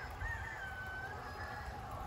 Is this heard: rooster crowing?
yes